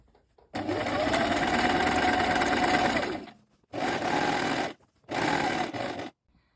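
A sewing machine runs a second gathering line on a dress, its close, even whir going in one long stretch, then two shorter bursts with brief pauses between.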